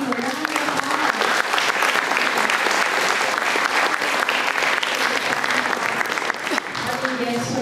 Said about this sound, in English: Let's give these ladies a round of applause.